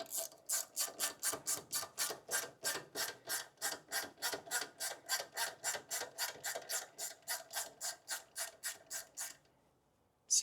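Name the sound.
ratchet tightening bolt on Toyota Tacoma axle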